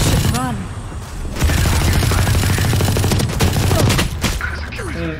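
Rapid gunfire in the Valorant video game comes as dense, loud bursts of shots with a player's voice breaking in over the action.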